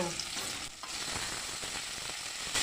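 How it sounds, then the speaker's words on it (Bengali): Steady crackling sizzle of phasa fish frying in a wok, with a few scraping clicks, continuous and close. "আমার মাছ ভাজা হয়ে গেছে"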